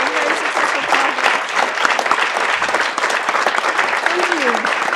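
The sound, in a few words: audience round of applause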